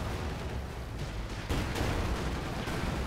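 Gunfire and explosions in the video game Company of Heroes 2, a dense, continuous wash of distant shots and rumbling blasts that swells slightly louder midway, with no voices.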